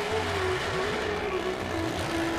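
Cars and motorbikes circling inside a well of death wooden drum at a Shivratri fair, a continuous loud engine drone with rising and falling revs filling the whole stretch, no talk.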